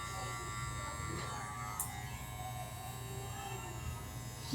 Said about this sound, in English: So now with the fade blade, this is just going to help me to get that little transition between the trimmer and the electric shaver better.